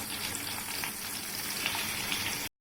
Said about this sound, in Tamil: ஆனியன் நல்லா கோல்டன் கலர் ஆகிற வரைக்கும் எடுத்துங்க